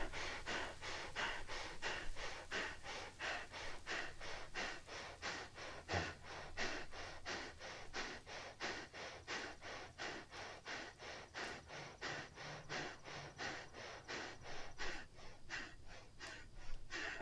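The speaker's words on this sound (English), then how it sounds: "Breath of fire." Rapid, rhythmic breath of fire yoga breathing, forceful exhales pumped out about twice a second in an unbroken series for over fifteen seconds, close and clear with no talking.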